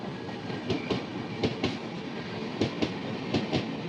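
The Trivandrum Rajdhani train overtaking on a neighbouring track, a steady rumble punctuated by rhythmic clickety-clack wheel beats in pairs, close and loud, with no talking.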